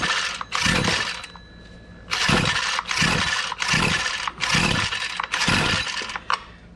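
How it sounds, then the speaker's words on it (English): Husqvarna 122LK straight-shaft string trimmer being pull-started, a series of about six loud, rapid recoil-cord pulls with brief engine catches in a steady rhythm. "Pull it a couple of times till it tries to start."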